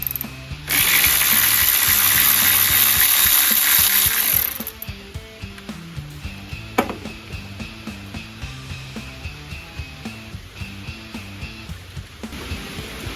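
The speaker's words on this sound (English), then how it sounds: "So going through here, disconnecting these mounting bolts." Hand ratchet loosening ignition coil mounting bolts on a 2005 GMC Sierra 2500 engine, a rapid steady clicking burst for several seconds, then slower intermittent ratcheting clicks with faint background music.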